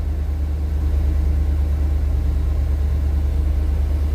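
A small engine that powers a pump idles close by, a steady low rumble with an even throb that holds constant and unbroken throughout, with no voices.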